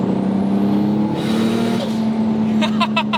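A Toyota 2JZ engine still in its break-in period gives a short, steady rev with a sustained droning tone, heard up close while a voice talks over it near the end.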